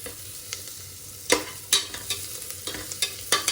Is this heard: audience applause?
no